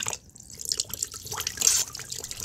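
Water draining from a disconnected kitchen sink pipe into a tub set underneath, heard as a steady close splashing trickle with small gurgles and drips, no talking.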